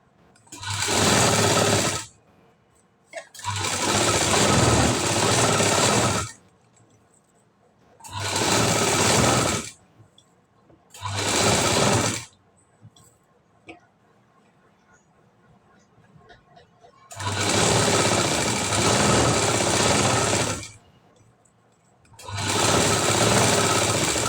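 Sewing machine stitching the edges of a high-neck blouse, running in six bursts of one to three seconds each, loud and close, with quiet gaps between runs where small handling noises are heard.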